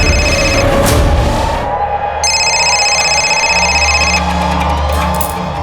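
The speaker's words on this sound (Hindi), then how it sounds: "अरे मेरा फोन बज रहा है" Telephone ringing loudly with repeated bright electronic ring bursts over busy background noise, no clear talk.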